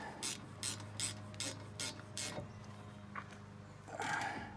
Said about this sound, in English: My rule of thumb is just snug them up, because these are just bolts that hold the caliper on